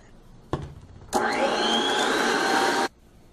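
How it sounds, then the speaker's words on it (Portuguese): An electric stand mixer whips chilled whipped cream at high speed. A click comes first, then a loud, steady whirring motor for nearly two seconds before it cuts off, close by and with no talking. "Nós vamos bater na batedeira o nosso chantilly em velocidade alta."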